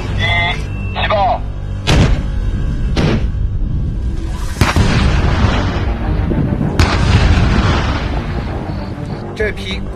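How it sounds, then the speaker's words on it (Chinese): Disposal of expired ammunition, including signal rounds, smoke rounds and rocket launchers, set off in a series of loud, deep blasts that boom and rumble across open ground, with voices heard early before the detonations. "三、二、一，起爆！"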